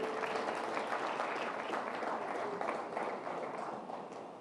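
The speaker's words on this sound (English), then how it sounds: "Please give him a round of applause." Audience applause fills a conference hall for art director Nilanjan Das at a welcome address, a steady broadband wash of many hands clapping that holds evenly and fades slightly toward the end.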